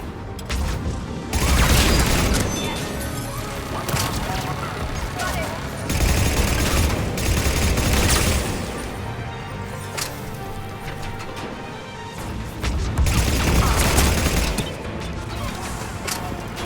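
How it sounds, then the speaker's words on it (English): Sustained turret gunfire from the video game Mass Effect 3, loud rolling bursts of automatic fire with booms and crashes that swell in waves, under a voice talking. "how many fucking turrets are there?"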